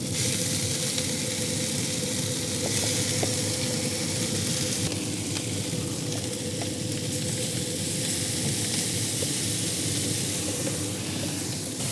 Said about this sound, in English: we're gonna kind of pan fry / saute our bulgogi to reheat it and to put a crisp on it, as well as the kimchi